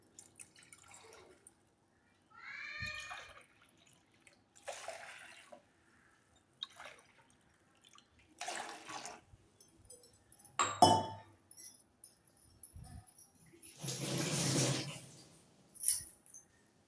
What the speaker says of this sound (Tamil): மூணு கிளாஸ் தண்ணி ஊற்றிக்கோங்க.